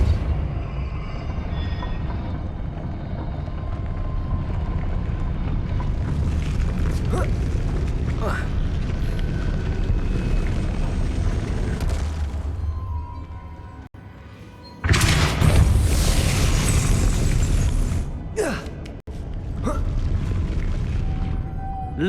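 A Depulso spell blast in the Hogwarts Legacy video game booms with rumbling, mechanical low-end force amid game effects, with a sharp bright burst partway through.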